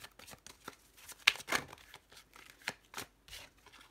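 A Lenormand card deck is cut and shuffled close by, giving crisp, irregular papery flicks and snaps at a quiet level with no voices.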